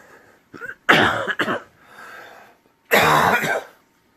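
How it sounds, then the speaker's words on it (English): A man with a lingering cough hacks repeatedly during a disc golf match, several harsh close coughs and throat clearings in quick bursts separated by brief pauses. "Excuse me, still nursing this cough."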